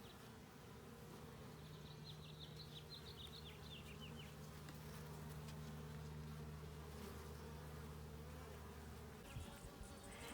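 A dense, continuous hum of many honey bees buzzing close by at an open hive, steady throughout, with no voices.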